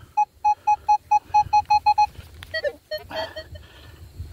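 An Equinox 700 metal detector sounds a run of about ten short, evenly spaced beeps, then a few warbling, jittery tones follow, all fairly close and clear.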